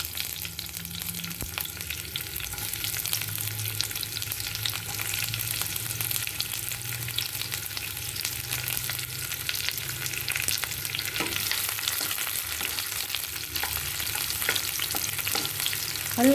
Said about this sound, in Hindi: अब मैं इसके अंदर वही जो रिमेनिंग ऑयल है उसमें मैं अनियन डाल रही हूँ।